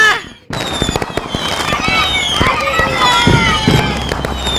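Firecrackers crackle at a New Year picnic, beginning with a loud blast, then a dense, continuous barrage of sharp pops and bangs close by, with people shouting and talking excitedly throughout.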